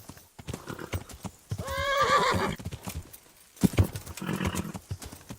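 A horse in the Kingdom Come: Deliverance video game neighs loudly, with rhythmic hoof clip-clop before and after the call and a second, shorter whinny near the end.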